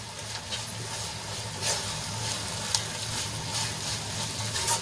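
Okra stirred with masala in a pan over a low gas flame, a steady soft frying sizzle with light scraping strokes, close and even in level, no speech.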